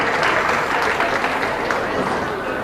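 Crowd applauding exhibitors at a county beef cattle show, a brief steady patter of clapping under a voice on a PA.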